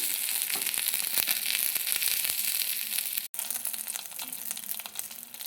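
A folded snack roasting in a pan gives off a soft, continuous sizzle and crackle, with faint scraping touches and a momentary dropout partway through.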